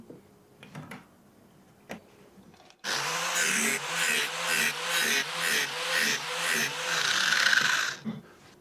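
A grinder fitted with a flap disc bites into an old, dull lawn mower blade, starting abruptly and grinding loudly for about five seconds with a pulsing rhythm from repeated strokes before stopping; faint clicks precede it.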